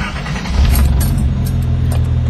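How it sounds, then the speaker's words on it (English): A warm turbocharged Datsun 280Z engine starts and settles into a steady, loud idle, with a brief surge of revs just after it catches. "I always like to listen to people start their cars"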